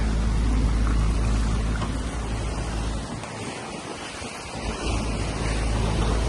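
Rushing water and strong wind of about 20 knots roar continuously around a racing sailboat surfing under spinnaker, with waves surging and wind buffeting the microphone.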